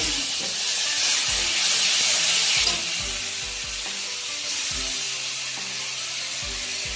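Whole cumin seeds and whole garam masala spices hit hot oil for a Bengali katla muri ghonto, giving a loud, steady sizzling hiss that eases slightly partway through, with faint clinks in the background.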